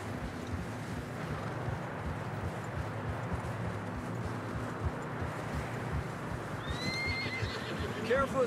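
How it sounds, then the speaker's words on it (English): Video game horses push through deep fresh snow on a narrowing trail, with hooves clopping under a steady wind and a whinny near the end. "Horses are struggling."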